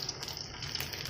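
Cooking oil poured over fish pan-frying in a pan, Hyderabad fish fry style, giving a steady close hiss of pouring liquid that lasts about a second, with no voices.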